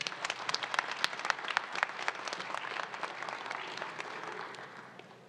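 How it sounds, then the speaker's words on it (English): Audience applause at a university Founders Day ceremony welcoming Miss Bowie State University to the stage, a dense spread of individual claps at moderate distance that thins out toward the end. "A round of applause."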